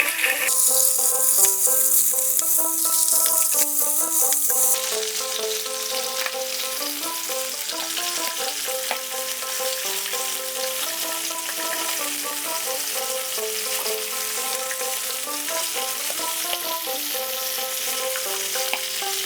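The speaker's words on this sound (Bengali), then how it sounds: "এর মধ্যে এবার মাছগুলো ছেড়ে দিচ্ছি, দিয়ে এপিট ওপিট হালকা করে জাস্ট নাড়াচাড়া করে নেব" Hilsa fish pieces sizzle steadily in hot oil in a pan with green chillies as they are turned, a continuous frying hiss running under melodic background music.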